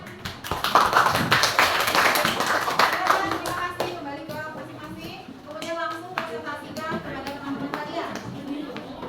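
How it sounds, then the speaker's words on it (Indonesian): Classroom audience applause for an expert team: loud, quick clapping from many hands at first, thinning out while voices and children talk over the fading claps. "Kita kasih aplaus untuk tim ahli."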